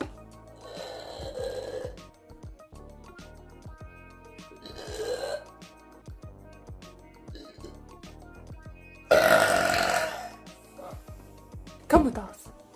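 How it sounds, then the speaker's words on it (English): Several loud, drawn-out burps come close to the mic, spaced a few seconds apart, the later ones strongest, with short bursts of talking between them. "I can burp. Good for me."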